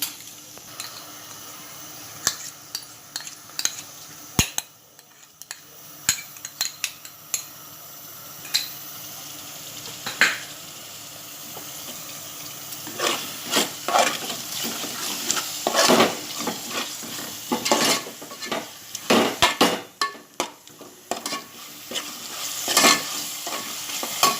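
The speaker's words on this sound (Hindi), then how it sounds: "अब मैं इसमें हरा मसाला डालूंगी।" Green masala is stirred into tomato mutton masala frying in a pan. A steady sizzle runs underneath, and the spoon scrapes and clatters against the pan in irregular bursts that get busier toward the end. No one speaks.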